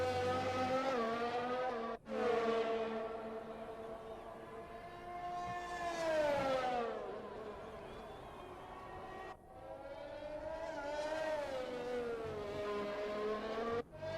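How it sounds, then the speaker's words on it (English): A high-revving Formula 1 car engine in the video game F1 2020 at Abu Dhabi whines continuously, pitch climbing and dropping with gear shifts and two brief cuts, with another car's engine audible close behind. "there's a car not too far behind me"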